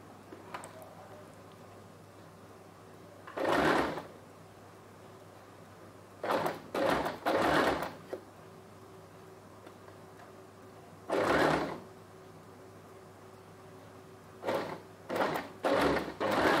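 Sewing machine stitching a fabric neckline runs in several short bursts of rapid clatter, each one to two seconds long, separated by quiet pauses, with one close group of bursts in the middle and another near the end.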